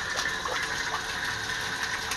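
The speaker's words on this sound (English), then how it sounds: "man, she's back flushing them filters," Water rushes in a steady, even stream as an automated filter back-flushes, triggered by a pressure switch, a continuous close gushing with no voices.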